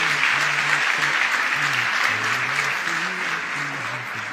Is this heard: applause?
yes